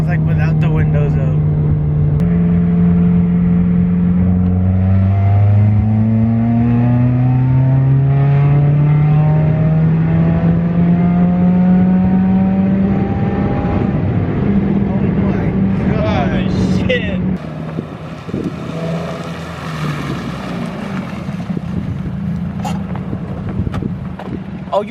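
A Subaru WRX fitted with an Invidia J-pipe exhaust revs loudly, its rising and falling engine tones sweeping up and down through several throttle blips, with wind buffeting and voices talking underneath.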